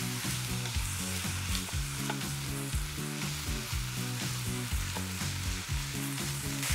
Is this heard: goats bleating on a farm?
no